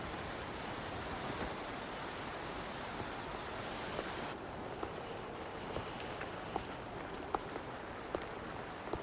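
Rain in the video game Wuthering Waves: a steady hiss of rainfall, faint and continuous, with occasional soft drip-like ticks scattered through it.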